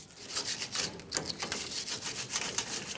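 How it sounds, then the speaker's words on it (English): A wire brush scrubbing grime off the rear differential area of a 1999-2006 Chevrolet Silverado 1500 truck, heard as quick, raspy back-and-forth strokes in a steady rhythm, close up and with no one speaking. "You can use a wire brush."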